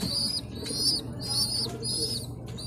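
Young pigeons or doves being fed, giving repeated high squeaky chirping calls in short bursts with soft cooing, close and fairly quiet.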